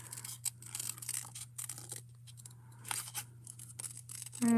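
Scissors cutting out simple paper shapes, soft crisp snips and rustles in short irregular bursts over a low steady hum, close and quiet.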